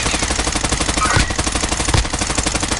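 Rapid automatic gunfire from Call of Duty Warzone rattles in a dense, continuous stream, loud and close, with a few heavier shots punctuating the burst and no clear talking.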